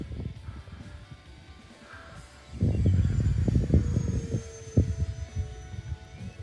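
A Flightline OV-10 Bronco RC plane at about three-quarter throttle, its electric motor buzz swelling louder as it passes overhead through an aileron roll, with steady throbbing drone and no talk.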